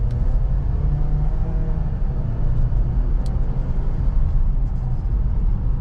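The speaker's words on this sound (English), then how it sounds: "let's just do a little acceleration test here" A 2022 Ford Edge SEL AWD accelerating, heard from inside as a loud, steady low engine and road rumble that holds throughout without talk.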